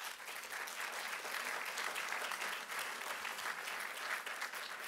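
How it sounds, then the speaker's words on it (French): An audience applauds a pioneering doctor at a talk on endotherapy, with steady, dense clapping from many hands that stays loud and even for the whole stretch without a break. "Vous pouvez l'applaudir parce que c'est un pionnier."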